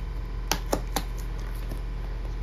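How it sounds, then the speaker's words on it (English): A home washing machine on its spin cycle gives a steady low hum, with a few sharp clicks near the start and no talking. "That's my washing machine spinning."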